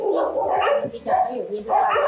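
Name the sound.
dogs barking at a dog shelter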